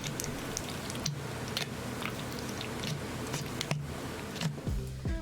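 Thick, wet squelching and slapping as a spackle and glue mixture is stirred, with irregular sticky clicks and scrapes close by.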